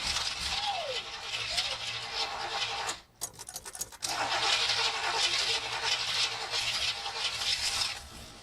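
A 1967 Buick GS340 engine cranks and struggles to start with a faulty carburetor, a steady grinding churn that cuts out briefly near the three-second mark, then resumes with a rough, uneven running roar.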